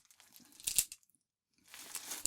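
A plastic bag holding coins crinkles and rustles up close, a crisp crumpling burst, a brief near-silent pause, then a second stretch of steady crinkling.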